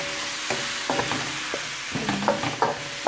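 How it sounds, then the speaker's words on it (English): A spoon stirring chicken adobo together with an onion mixture in a hot pan, giving repeated scraping and clacking strokes over a continuous loud sizzle, close and with no talk. "Mix it with the onion mixture."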